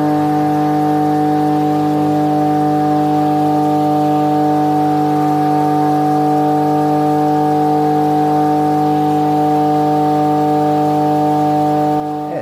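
A Keppe motor runs with spinning fan blades, a loud steady hum with strong harmonic tones that hold constant throughout, then cut off abruptly at the very end.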